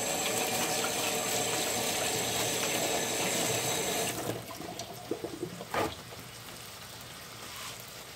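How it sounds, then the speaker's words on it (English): Hands are washed under a running kitchen tap, a steady rushing stream that stops partway through, followed by a few faint splashes and handling sounds in a quiet room. "I'm going to wash my hands really quick."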